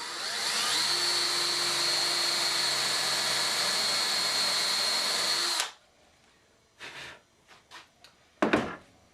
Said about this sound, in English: Come over with the drill and line it up on the hole that we made and then drill.